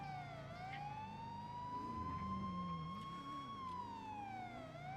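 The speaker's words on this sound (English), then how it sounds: "You can kill your siren." A police siren wails in a roleplay video game, its pitch sweeping slowly up and down in a continuous loud cycle over an engine-like rumble, with no talking.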